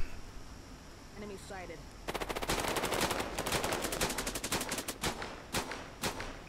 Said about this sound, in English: you're already shooting those guys down there